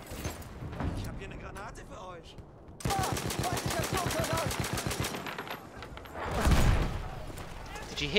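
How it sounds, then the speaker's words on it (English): In Battlefield 1, bullets strike wood near the player in rapid bursts of sharp cracks and thuds, alongside loud machine gun fire, with a voice talking over the gunfire. "Did you hear the bullets falling on the wood that I'm laying on?"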